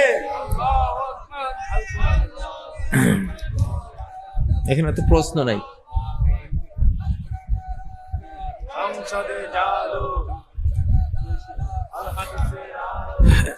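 A crowd at a religious gathering loudly shouts takbir in unison, bursts of massed voices rising between stretches of a man's amplified speech.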